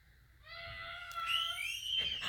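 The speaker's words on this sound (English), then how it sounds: "I don't know if you can hear the screaming in the background" Children's high-pitched screams and shrieks while playing carry from a distance, rising and overlapping, with faint background noise underneath.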